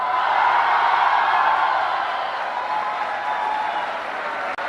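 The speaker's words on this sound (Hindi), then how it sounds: "अब आप खड़े होके अपने लिए शोर करके ताली बजाएंगे" Dense applause from a large group of students standing in an auditorium, with shouts and cheering blended into a steady, even wash of clapping that holds throughout before easing slightly.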